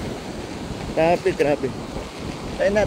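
Steady roar of wind and large ocean waves surging around a boat, with short exclamations from a speaker over it.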